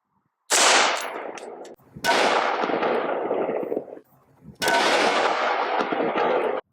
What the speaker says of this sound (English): 55 grain freedom munition stuff coming out of a 16-inch barrel.